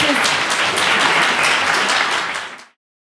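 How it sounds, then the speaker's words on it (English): Audience applause after a speaker's thanks at an event: dense, steady crowd clapping at full volume for about two and a half seconds, then cutting off abruptly into silence. "Let's give him a big round of applause."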